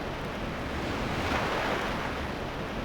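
Ocean surf from the Tactics Ogre game world, a steady wash of breaking waves with a faint breezy hiss, swelling slightly midway and holding at an even, fairly close level throughout with no voices.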